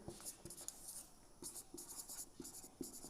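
Marker or chalk writing on a board during a physics lesson on vectors, heard as short scratchy strokes in irregular bursts, fairly faint and close, with no talk over it.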